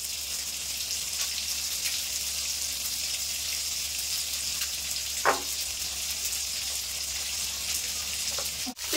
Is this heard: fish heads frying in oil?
yes